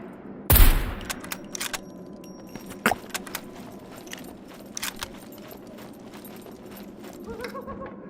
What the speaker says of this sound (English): That's a nice suppressor noise.